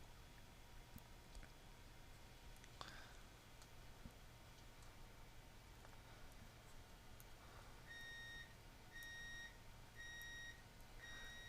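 A laundry machine signals its finished cycle with a short series of faint electronic beeps near the end, far off in the background beneath a quiet room hiss.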